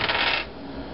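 A die clatters and rattles across the playing surface during a Space Hulk board game, one brief close tumble that quickly dies away into room noise.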